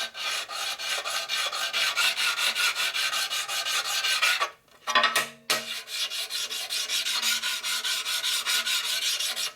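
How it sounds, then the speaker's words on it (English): Steady rhythmic rasping strokes of a fine stone deburring a metal surface on a 12-inch surface grinder, close and continuous, with one brief pause midway. "So this we just want to deburr it."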